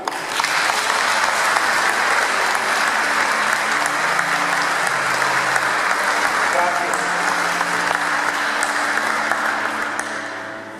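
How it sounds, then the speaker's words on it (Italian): A crowd inside the reopened Duomo of Loreo, a cathedral just restored, breaks into sustained applause, loud and even throughout before easing slightly at the very end, with some faint voices mixed in. "se posso permettermi di chiedere un applauso."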